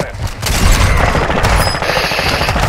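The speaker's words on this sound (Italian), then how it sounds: "Oh, sparano!" Dense, rapid gunfire from a Call of Duty match rattles on loudly and almost without pause, with bursts overlapping in a harsh, crackling barrage.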